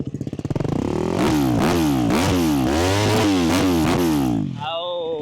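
A motocross motorcycle engine at a dirt track roars close by, with the throttle blipped repeatedly in a series of loud revs that rise and fall before settling back to idle.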